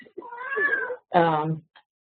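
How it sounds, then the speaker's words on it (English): A house cat gives two clear, drawn-out meows close to the microphone, the second louder and more strained, with no talk over it. "my cat's going to be meowing at us in the background"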